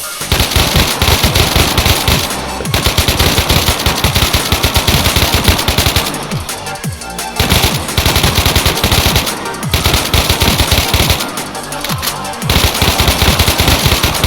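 Rapid automatic gunfire in a video game rattles almost nonstop in loud, dense bursts, broken by a few brief pauses between volleys.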